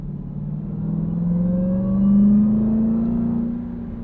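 A 2023 Dodge Durango SRT Hellcat engine in track mode with manual shifting, revving steadily upward with a rising, loud, close growl and deep rumble, no voices.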